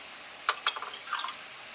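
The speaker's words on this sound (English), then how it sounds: "Then you have to pour in the liquid" Liquid poured into a beaker, a short run of small splashes and drips lasting under a second, close and fairly quiet, with no voices.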